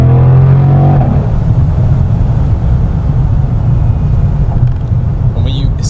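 A C8 Corvette engine drones inside the cabin on a night drive, a loud, steady low rumble whose tone drops away after the first second, with a voice talking over it.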